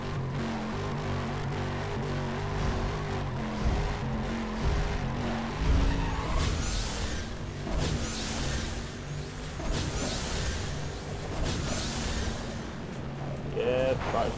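Race cars roaring through a drag race in Need for Speed World, engines revving and shifting with tire squeals and skids, loud and continuous throughout, with a voice talking faintly underneath.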